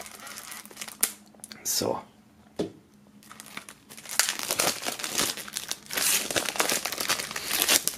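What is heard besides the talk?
plastic shrink-wrap foil removed from album box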